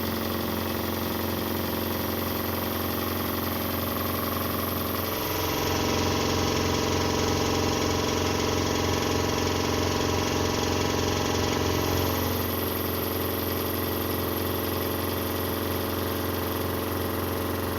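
A repaired scrapyard machine runs on test without its guard fitted. It gives a loud, steady mechanical drone close by, which shifts into a heavier, fuller running tone midway and then settles back, with no voices.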